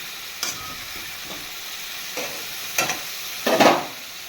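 Paneer curry with carrot and potato being stirred and sautéed in a pan: a faint steady sizzle carries soft scraping stirs, with a few louder strokes toward the end and no talk.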